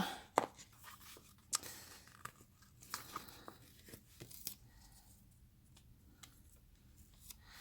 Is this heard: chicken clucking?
no